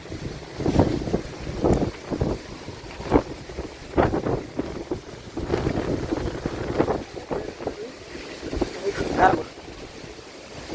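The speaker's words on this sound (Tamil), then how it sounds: "சரியான மாதிரி காத்தடிச்சு கொண்டிருக்குது" Strong wind gusts across a flooded Pannai road in Jaffna, where a large tree has snapped and fallen; a rough, buffeting rumble hits the microphone in uneven bursts while a voice talks over it.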